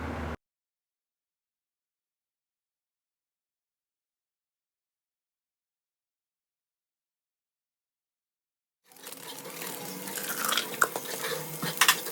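Fish curry is stirred after potatoes are added. A long stretch of silence is followed by close, soft scraping and clinking of a spoon in the pot, with a faint sizzle.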